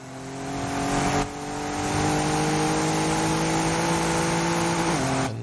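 A BMW race car in a racing video game, its engine drone rising steadily in pitch as it approaches, with a brief dip and gear change, loud and continuous.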